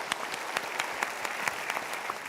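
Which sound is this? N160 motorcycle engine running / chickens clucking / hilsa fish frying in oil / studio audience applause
studio audience applause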